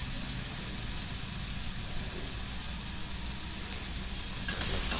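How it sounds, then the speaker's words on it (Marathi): Onion and tomato sautéing in a pan for masala oats, a steady, even sizzle and hiss with light stirring scrapes, fairly close and without talk. "कांदा टोमॅटोला मस्त प्रकारे परतून घेणे."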